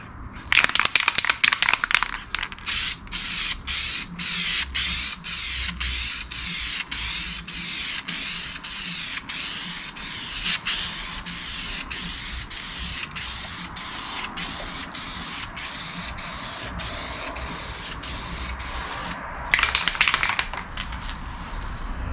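VHT wrinkle paint sprayed from an aerosol can onto a Volvo 940 Turbo cam cover, a loud close hiss in a long run of short, evenly spaced bursts, with a few longer sprays at the start and near the end.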